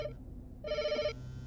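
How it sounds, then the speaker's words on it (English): A phone in a horror video game rings with an incoming call, a short electronic ring tone that pulses a couple of times at moderate level with no talking. "Incoming call"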